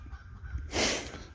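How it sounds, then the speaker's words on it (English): Chickens let out one loud, harsh squawking burst partway through, standing out clearly over a quiet background with no talking. "Sorry, my chickens are going nuts."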